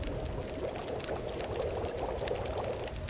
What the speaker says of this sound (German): Wasser abkochen.